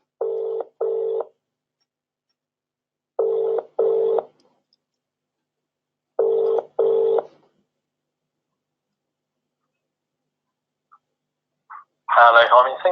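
An outgoing phone call to a web agency ringing on the line: three evenly spaced double-ring tones in the earpiece, then a brief voice answers at the end.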